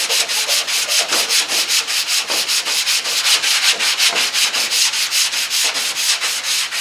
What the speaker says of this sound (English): by using a block like this, you can really precisely sand stuff to what you want to do.